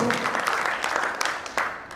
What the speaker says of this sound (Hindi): तो ऑल मैनेजमेंट के लिए जोरदार और जबरदस्त तरीके से तालियां होंगी दोस्तों